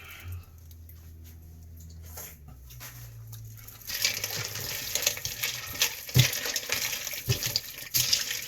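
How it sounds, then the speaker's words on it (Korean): Cold Pyongyang naengmyeon broth is poured into a bowl for a raw squid and abalone mulhoe, a quiet start that swells into a steady, bright splashing stream with a few louder sloshes. "육수를 평양 물냉면 육수 부어줍니다"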